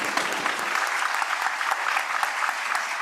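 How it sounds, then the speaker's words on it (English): Applause from a conference audience for the panelists of a plenary session at an international migration statistics forum, even, sustained clapping throughout, fairly close and full. "I'd like you to join me for a round of applause about our panelists for this session."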